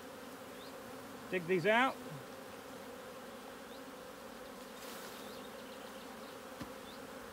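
Honey bees in an apiary hive drone in a steady, close hum throughout, with a brief louder buzzing burst near the start as a bee passes; a voice speaks briefly.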